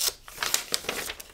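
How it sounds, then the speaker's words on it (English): Paper is torn by hand for a monoprinting gel plate project: several quick, close, dry ripping bursts in a short uneven series. "And I'm ripping it."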